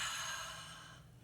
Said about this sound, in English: Open up your jaw. Exhale out.